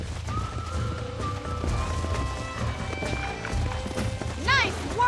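A horse gallops in Red Dead Redemption during a horse-breaking session at a ranch: rhythmic hoofbeats run steadily throughout, then a loud neigh rises near the end, with spoken dialogue and music over it.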